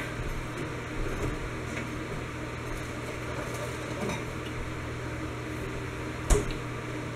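Steady broadband whir of electric fans running nearby, a constant airy drone with a low hum, and a brief clunk near the end.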